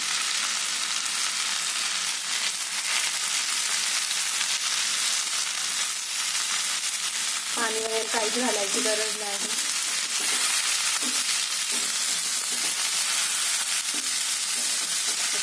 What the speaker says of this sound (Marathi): व्यवस्थित आपण परतून घ्यायचं आहे